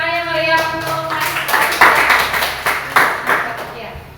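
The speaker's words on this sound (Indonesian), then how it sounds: "Beri tepuk tangan yang meriah untuk Mas" After a short stretch of talk, the audience at a Grade 6 primary school farewell ceremony breaks into clapping: a crowd of hands in uneven bursts, moderately loud and close, with a voice over the start.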